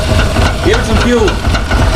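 A worn engine in a Firepigeon with a loose alternator belt revs briefly as fuel is given, a loud rough idle swelling and falling within two seconds, close to the microphone.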